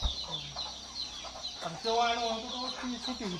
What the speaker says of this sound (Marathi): पांढरी कोंबडी मस्त आहे बघा